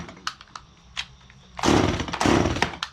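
Chainsaw cutting into wood to rough out a simple tiki wall hanger, starting after a few faint knocks with a loud, buzzing run of cutting that surges twice close up and fills the second half.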